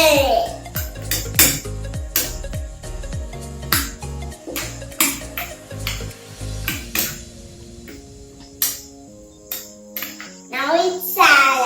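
Fruit salad mixed with honey using a spoon in a bowl, a rapid run of bright clinks and knocks of metal on the bowl, close and loud, with someone speaking now and then.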